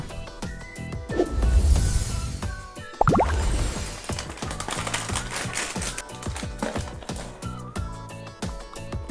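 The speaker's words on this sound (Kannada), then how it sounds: "ಈಗ ಒಂದೊಂದನ್ನೇ ಪ್ಲೇಟ್ಗೆ ಹಾಕ್ತೀನಿ, ಹಾಗೆ ಕೈಯಲ್ಲಿ ಪುಡಿ ಪುಡಿ ಮಾಡಿ ಟೇಸ್ಟ್ ಮಾಡ್ತೀನಿ" Kurkure, Lays, chips and moong dal snacks are poured onto a plate and crushed by hand, heard as a loud rustling pour followed by a steady run of close, dry crunching and crackling.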